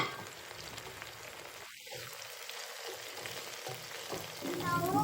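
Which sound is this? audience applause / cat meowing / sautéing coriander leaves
sautéing coriander leaves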